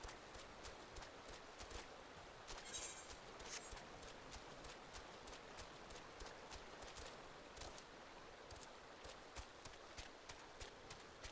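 Horse hooves in Final Fantasy XIV clop in a quick, steady rhythm throughout, soft and close, with a brief splashy burst partway through over quiet background ambience.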